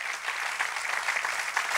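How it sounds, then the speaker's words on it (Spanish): A congregation claps for the Lord during a church service, dense steady applause from many hands at moderate distance, filling the short moment without speech. "Dale un aplauso al Señor."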